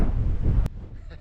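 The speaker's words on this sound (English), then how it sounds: "It's too windy." Strong wind on a mountain top buffets the microphone with a loud low roar, cutting off abruptly partway through and leaving a quieter background.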